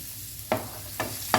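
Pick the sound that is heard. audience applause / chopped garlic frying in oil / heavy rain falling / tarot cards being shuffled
chopped garlic frying in oil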